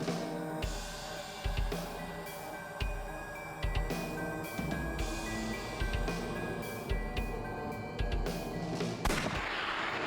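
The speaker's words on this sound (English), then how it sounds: "I'll try shooting it." Repeated heavy gunshots with low booms at an even pace from the AI: The Somnium Files video game, loud and close over a steady game soundtrack with a sustained tone, no speech.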